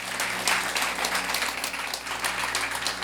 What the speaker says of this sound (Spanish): Quiero hacer un aplauso al Señor, porque eso es digno de ser alabado.